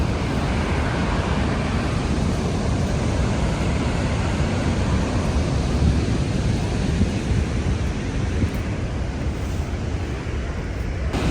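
Niagara Falls in Canada roars in a steady, dense, broadband rush of falling water, loud and unbroken throughout, with no voices.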